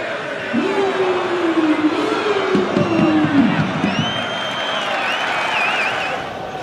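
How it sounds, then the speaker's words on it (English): Stadium crowd at a football match applauding and cheering after a player's skillful drop of the shoulder, a loud continuous roar of clapping and voices with a commentator talking over it. "Crowd applauding the drop of the shoulder."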